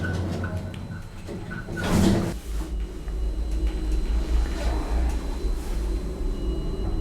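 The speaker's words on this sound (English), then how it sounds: "Door close button does work," Lift doors in Stevenage slide shut with a brief rushing sweep, followed by a steady low mechanical hum inside the car.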